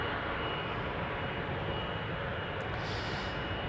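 A KLM Boeing 777-200 jet departs Amsterdam Schiphol, a steady distant engine roar with broad rumble held throughout, no voices.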